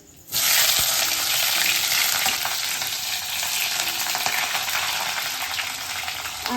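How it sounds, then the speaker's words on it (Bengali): Onions frying in hot oil, a sudden loud hiss that starts as they hit the pan and then holds as a steady, close sizzle with faint crackles, with no voices. "পেঁয়াজগুলোকে ভালো করে লাল লাল লাল লাল করে ভেজে নেব"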